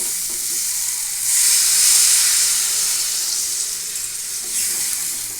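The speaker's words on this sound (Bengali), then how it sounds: "দেখুন এখানে আমি জল দিয়ে দিলাম" Water is poured into a hot pot of cooking green jackfruit, a loud hissing rush that swells briefly then settles into a continuous close sizzle.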